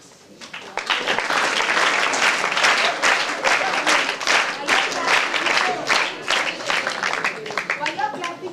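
Audience at an NCC training closing ceremony claps loudly and steadily for several seconds, dense applause with scattered individual claps, fading slightly toward the end while faint voices sound underneath.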